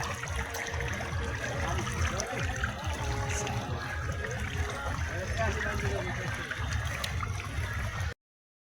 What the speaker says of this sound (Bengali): আশা করি তোমরা এই জলের শব্দটা স্পষ্ট শুনতে পেয়েছো তো এটা একটা ছোট্ট ওয়াটার ফলস ছিল